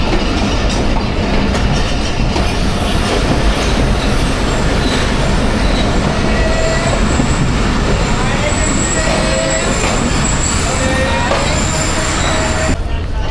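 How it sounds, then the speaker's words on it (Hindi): The Hazara Express rolls into Kotri Junction loudly and close, with continuous rumble and clatter, wheel squeals drifting in and out, and voices under the noise. "कोटरी जंक्शन पहुंच गई जी ट्रेन हमारी"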